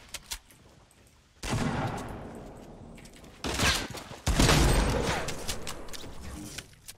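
Rapid bursts of Fortnite gunfire in a duo match, loud sustained volleys in two main stretches with brief quieter gaps between, with no talk over the shots.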